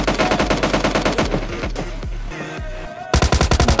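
Rapid automatic gunfire from the mobile battle royale game BGMI, loud and close, with dense bursts of shots, a short lull of scattered fire, then another tight volley.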